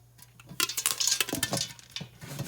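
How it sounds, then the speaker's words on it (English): Popcorn kernels popping in a lidded pot while making caramel corn, a brief close cluster of pops and rattles against the metal, with a few scattered knocks trailing off. "it's starting to pop. So now I'm going to put my lid back on."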